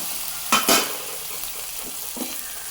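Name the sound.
green chillies and coriander paste added to frying tomatoes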